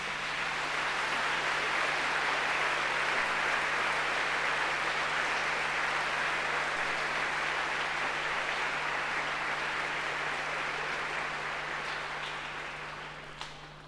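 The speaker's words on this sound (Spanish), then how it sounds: "Denle un fuerte aplauso a Jesús," Church congregation applauding during a sermon, a long steady wash of many hands clapping at a distance that holds evenly for over ten seconds before slowly tapering off, with a low constant hum underneath.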